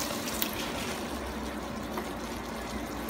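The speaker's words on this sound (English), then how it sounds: "By just looking at this, I am going to add a splash of water." A splash of water is poured into a Ninja Foodi pot holding onions, giving a close, steady watery hiss that runs unbroken for a few seconds.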